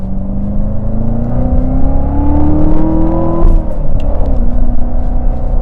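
Engine of a manual Chevrolet Corvette C7 Z06 revving while driving, a loud, close, rising drone that climbs steadily, drops with a gear change, then picks up again under a constant road rumble.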